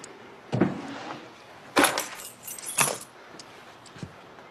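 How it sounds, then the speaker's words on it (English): Keys to a band truck jangle close by in several short metallic bursts, with quieter clinks and handling noise between them in a quiet room. "Need the keys to the band truck."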